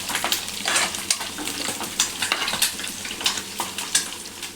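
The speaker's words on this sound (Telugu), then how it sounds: "ఒక కడాయిలో ఇట్లా ఫ్రై కావాలి." Egg fried rice frying and being stirred in a kadai, a steady loud sizzle under repeated scraping strokes of a spatula against the metal, with no talking.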